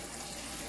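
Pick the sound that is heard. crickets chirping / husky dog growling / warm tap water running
warm tap water running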